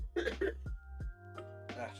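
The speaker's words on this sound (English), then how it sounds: "that cough is going to kill me" A few short throaty coughs from a man working at his computer, close and dry, spaced out in quick bursts with brief pauses between.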